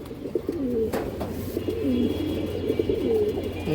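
A pigeon coos close by in a series of soft, rolling low calls that repeat steadily over several seconds, with faint background noise and no voices.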